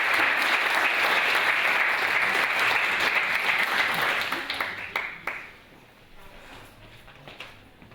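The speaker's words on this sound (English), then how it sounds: "An applause, please." An audience at a neuroscience day event applauds a speaker taking the stage, dense sustained clapping for about five seconds that trails off into a few scattered claps and quiet room sounds.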